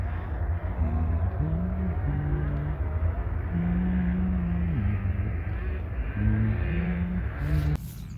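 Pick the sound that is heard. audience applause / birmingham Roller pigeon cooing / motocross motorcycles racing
motocross motorcycles racing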